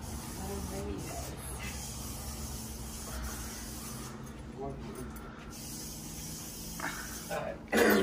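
Disinfectant spray hisses in several bursts while people talk and move around nearby.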